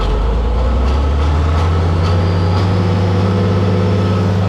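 A farm tractor engine revs high while pulling a hay tedder on a breezy day, a loud steady low drone with a constant pitch, close to the microphone and alone without talk.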